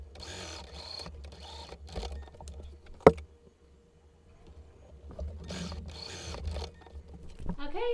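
A sewing machine stitching fabric strips for a placemat cover, running in several short whirring bursts with pauses, a sharp click near the middle, and brief back-and-forth stitching.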